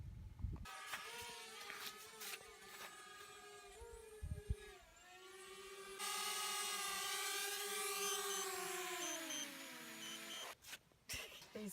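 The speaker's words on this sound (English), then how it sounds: "So we're just flying the drone as it's not windy." A small camera drone hovers and flies outdoors in calm weather, its motors giving a steady high-pitched whine that rises and bends in pitch as it moves, with wind and handling noise at the start and end.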